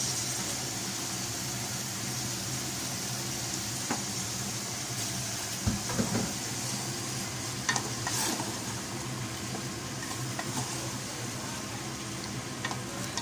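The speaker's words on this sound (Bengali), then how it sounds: "এখন হচ্ছে খুব ভালোভাবে চিকেনটার সাথে মশলাটাকে আমি মিশিয়ে দিচ্ছি।" Chicken and potatoes being stirred and fried with spices in a pan, a steady sizzle under occasional scraping stirs, close and moderately quiet, with no talking.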